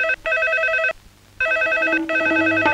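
A telephone rings loudly and close by, a steady electronic double trill that stops briefly and then starts again. Nobody speaks.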